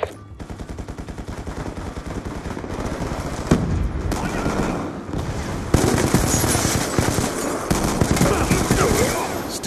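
Automatic fire from an MQ-27 Dragon drone attack in a shooter video game, sustained rapid bursts of gunshots rolling continuously under battle noise, loud and close with a few sharper jumps in intensity.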